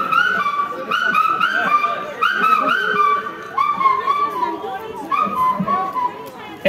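Someone mimics the bou kaka bird at an Assamese Rongali Bihu celebration, repeating a bright two-note call about five times in a steady rhythm, loud and close over faint crowd noise.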